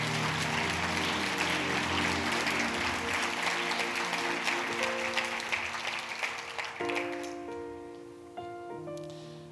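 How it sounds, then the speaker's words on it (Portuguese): A church congregation gives a round of applause in praise of Jesus, a loud, dense wash of clapping that thins toward the end as sustained keyboard or organ chords emerge underneath. "Uma salva de palmas, nosso Senhor Jesus"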